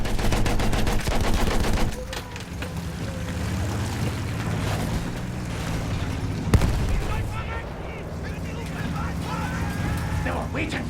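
Grenade blast amid gunfire in a muddy battlefield push, with dense rattling shots, a sharp loud bang midway, and a rumbling vehicle engine underneath; shouting voices are mixed in.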